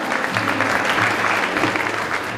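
An audience at a celebrity dinner during the World Gourmet Summit applauds the Drumcats drumming group, a steady, dense wash of clapping held at an even level throughout.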